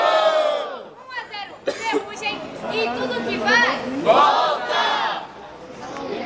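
A crowd at a Brazilian rap battle, Batalha da Leste, roars and shouts together, loud and sustained, with a voice calling out in Portuguese over the noise.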